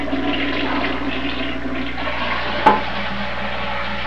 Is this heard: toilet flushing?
yes